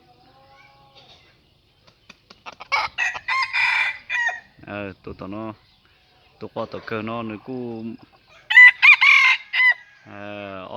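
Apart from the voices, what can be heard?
white rooster crowing and clucking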